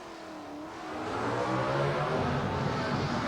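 A brand new Camaro drag racing car's engine at a 1990 ANDRA drag racing event, a loud steady roar that swells over the first second and then holds, revving hard with broadband crowd-like noise around it.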